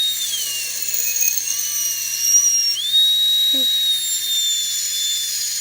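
A high-speed rotary tool with a burr carving a dog-head silhouette into a duck eggshell, giving a loud, steady, whining drone whose pitch shifts as the load changes, running for the whole stretch.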